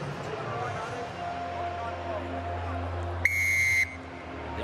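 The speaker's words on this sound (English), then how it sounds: "Yako Piper blows the whistle" Referee's whistle at an All Blacks versus Australia rugby match at Eden Park, one steady shrill blast lasting about half a second, piercing through constant stadium crowd noise and commentary.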